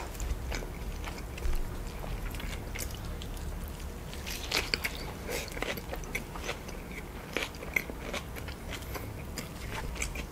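Someone eats Wendy's new spicy chicken nuggets and a burger up close, with repeated soft bites, wet chewing and occasional crunches in an uneven rhythm and no talk.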